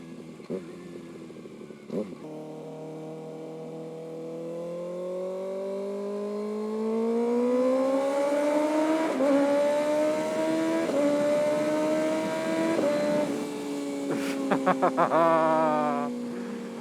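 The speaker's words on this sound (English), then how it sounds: "That's a real quick shifter right there." A 2025 Kawasaki ZX6R motorcycle accelerates hard through its gears, the engine note climbing steadily with crisp, quick-shifter cuts between gears and a brief burst of rapid pops near the end, loud and close throughout.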